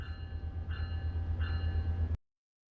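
An EMD F125 locomotive runs in Train Sim World 4 with a steady low engine drone and faint high tonal whine that swells twice. The sound is moderately loud and cuts off abruptly near the end, followed by silence.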